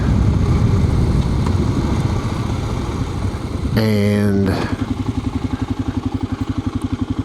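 A motorcycle engine rumbles loudly up close, a short burst of speech cutting in midway, then the engine settles into a steady pulsing idle.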